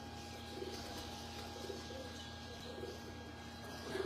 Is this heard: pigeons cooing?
yes